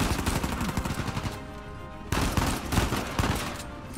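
Video game gunfire in Uncharted 4, dense bursts of automatic shots and overlapping blasts, loud and continuous with a brief lull in the middle, no talking.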